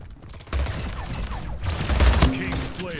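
Rapid gunfire in a competitive first-person shooter video game, with a close burst of shots and mechanical clatter in the game's mix.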